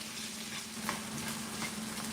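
A pancake fries in butter in a hot pan, giving a steady, close, continuous sizzle with no talking.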